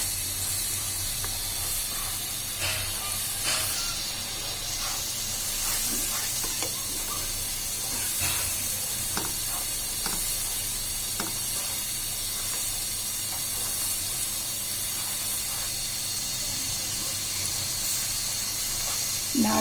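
Spice paste frying for prawn kofta, a steady continuous sizzle and hiss from the pan with occasional stirring clicks, close and unbroken throughout.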